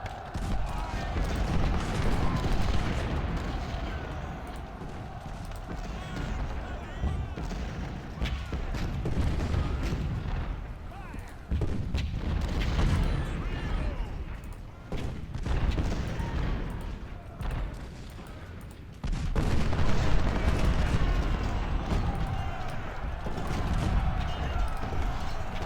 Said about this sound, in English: get all of this artillery over here firing on that battery